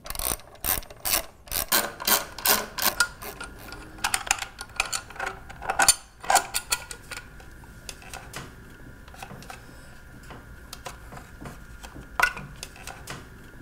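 A T27 Torx driver ratchets as it removes the stock air filter from a Crusher Maverick, giving rapid, close clicking in bursts that thin out into occasional single clicks and faint rattles.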